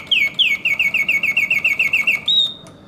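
A vintage Reuge mechanical singing bird cage chirps in a rapid series of about fifteen bright, evenly spaced tweets, ending in a longer rising whistle, close and clear with no talking.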